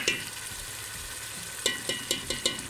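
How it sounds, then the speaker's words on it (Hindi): Taro root (arvi) being stirred into sizzling masala in a pan: a steady close frying hiss, then a run of sharp scraping strokes from the spoon in a quick, even rhythm. "मैंने इसके अंदर शामिल कर दिया अरबी को और इसको अच्छी तरीके से कर देंगे मिक्स"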